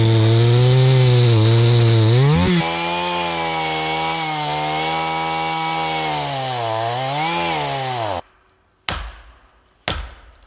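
A large chainsaw roars loudly and steadily, its pitch dipping and rising as it bites into wood in winter, then cuts off abruptly followed by a couple of sharp knocks.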